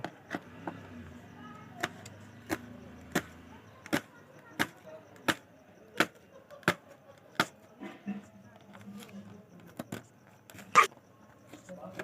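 A knife chops onion on a board in a home kitchen, giving a steady series of sharp, close taps roughly every half second, with faint background noise between strokes.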